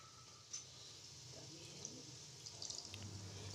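Water pours into a pan of fried curry masala to make gravy, a quiet, steady trickling and splashing close by in a kitchen, lasting several seconds with faint clinks.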